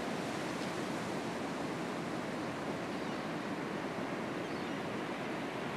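Ocean waves break on a beach in Murramarang National Park on Australia's eastern seaboard, a steady, dense wash of surf rolling on continuously at moderate level with no voices.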